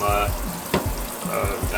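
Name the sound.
rinsing fan parts under cold tap water at the sink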